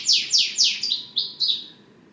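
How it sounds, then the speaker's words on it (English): Canary singing loudly nearby, a quick series of six bright descending chirps and trills, clear and alone against faint background noise. "That's a canary, folks. He is really loud."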